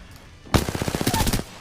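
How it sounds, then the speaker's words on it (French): Rapid automatic gunfire in a tactical shooter video game, a loud burst of about a dozen closely spaced shots lasting under a second after a quiet lead-in. "on se fait tirer dessus sur le top"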